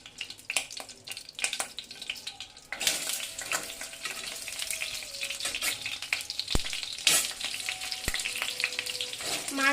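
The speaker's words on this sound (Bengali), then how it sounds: "মাছগুলো দেওয়া হচ্ছে। মাছগুলো দিয়ে একটু ঢাকনা দিয়ে দেবো।" Hilsa fish pieces dropped into hot oil in a pan over a medium gas flame, a loud sizzle swelling in as they go in, then steady crackling frying with occasional clinks.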